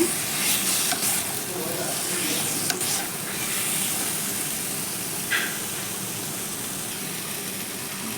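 Radish chhechki frying in a pan, a continuous loud sizzle and hiss with intermittent scraping stirs, one sharper clink midway, no voices.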